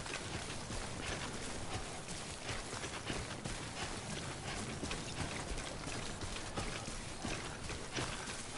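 Steady rain keeps falling across the whole stretch, an even wash of Timefall in Death Stranding with scattered pattering drops, easing off rather than stopping.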